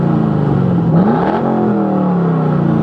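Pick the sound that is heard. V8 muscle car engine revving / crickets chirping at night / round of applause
V8 muscle car engine revving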